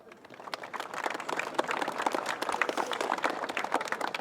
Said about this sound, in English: Clap for that.